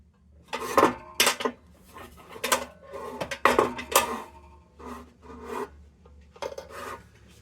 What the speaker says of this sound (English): I can rattle a chain around in there.